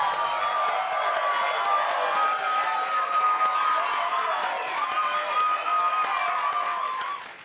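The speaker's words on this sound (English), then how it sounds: "Hand clap, SFX." Canned applause sound effect, a dense, continuous wash of clapping and crowd noise holding a steady level for several seconds before tapering off at the end.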